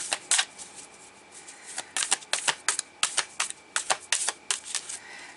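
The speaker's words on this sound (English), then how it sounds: "we'll keep shuffling them and see what happens" Tarot cards being shuffled in quick, crisp bursts of riffling and snapping, close up with no talking.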